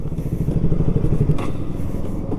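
A motorcycle engine idles close by outside a Benelli and Keeway showroom with a low, throbbing putter and a brief rev in the middle, no talking.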